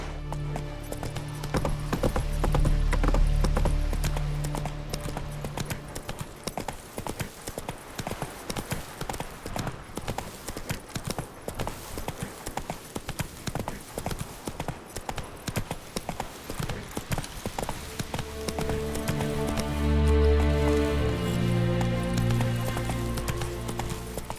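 A horse gallops in The Witcher video game, with rapid, steady hoof clip-clops running throughout over a layer of game music and ambience, swelling louder near the start and end.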